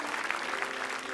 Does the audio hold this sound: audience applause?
yes